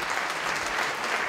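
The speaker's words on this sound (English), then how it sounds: "Another big round of applause for Peter and Kathy." Steady, dense applause from an audience at a local charity dance competition, a continuous wash of clapping without a break.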